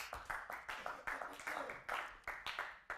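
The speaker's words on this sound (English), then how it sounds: "Give Yahweh a round of applause." Scattered clapping from a small audience at a Hebrew study gathering, a handful of separate claps in an uneven rhythm, fairly faint and nearby, with no voices over it.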